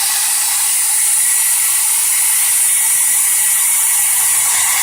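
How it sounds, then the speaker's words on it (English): A hair dryer on high heat blows over a lace frontal wig, making a loud, steady, hissing whoosh that holds without a break. "just begin blow drying it again for another 10 minutes"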